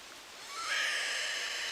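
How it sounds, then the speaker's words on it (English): Rain pours down in theHunter Classic's Rougarou Bayou reserve, a steady broadband hiss that swells louder partway through and then holds at a constant level. "The rain is so loud."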